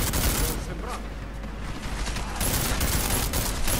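Rapid bursts of gunfire crackle continuously in the video game Deus Ex: Mankind Divided, dense and loud, with brief voices mixed underneath.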